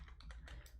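Quiet typing on a computer keyboard, a short run of light, irregular key taps close by with no voices.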